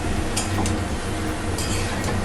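Jackfruit curry is stirred and dry-fried in a pan for a Bengali echor kosha, giving a steady, close sizzle with occasional light clinks of a spoon against the pan.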